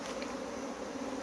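Honey bees swarm around an open hive box with a super of new comb, making a dense, even, close buzz with no pauses.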